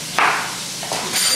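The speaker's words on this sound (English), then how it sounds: "What to do is chop them up a bit." A knife chopping sweet garden onions on a board, heard as two or three close, sharp knocks with quiet gaps between them.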